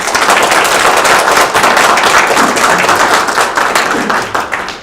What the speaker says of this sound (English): One more round of applause for Teresa.